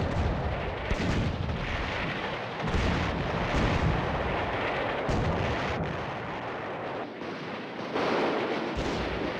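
Grenades blast on a video game battlefield, a dense string of loud booming explosions and gunfire rolling on without pause, heavy and close throughout.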